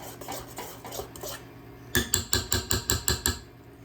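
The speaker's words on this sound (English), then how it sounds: "I'm going to let it mix a little more" Pumpkin bread batter is mixed in a bowl, with soft scraping strokes followed by a quick run of about eight sharp, regular knocks of a utensil against the bowl.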